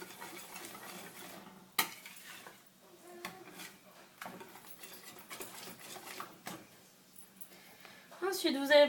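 A fish loaf mixture being stirred in a bowl, with soft scraping and clinking of utensil against the dish, moderately near and fairly quiet, with a louder knock and a brief bright clatter near the end.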